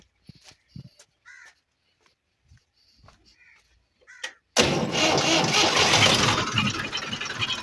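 A tractor engine starts up abruptly after several seconds of sparse crow caws and faint sounds, then settles into a loud, steady, close running drone.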